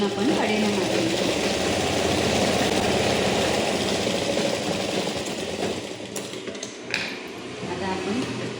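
A sewing machine hums continuously while stitching seams on patiala pants, a steady close motor drone that eases slightly toward the end with a few small clicks.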